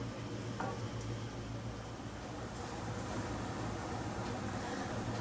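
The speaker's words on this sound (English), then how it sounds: "I'm just going to bring this up to a light boil, and I'm going to let this just cook down for about 15 minutes" Sweet onion jam in a pot at a light boil, giving a faint, steady hiss of gentle bubbling that holds evenly throughout with no voices.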